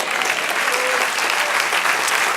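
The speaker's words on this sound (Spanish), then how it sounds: "Denle un aplauso al Señor." A church congregation gives a steady, dense round of applause, a sustained wash of many hands clapping together with some faint voices mixed in.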